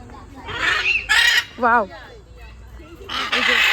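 Loud bird honking in bursts, harsh nasal calls from several birds close by, with a short gap between the calls.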